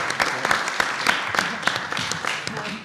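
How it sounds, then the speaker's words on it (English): A modest audience at a college sports accountability hearing gives panelists a short round of applause, scattered claps rising over background chatter for a few seconds. "Please give our panelists a round of applause."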